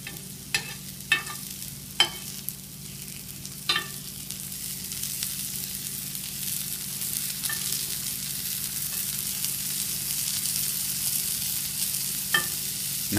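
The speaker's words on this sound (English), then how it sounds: "Now we'll cook the shallots for just a minute until they get a little bit of color too." Shallots and blewit mushrooms sautéing in a pan give a steady close sizzle, with a few sharp utensil scrapes and stirs scattered through.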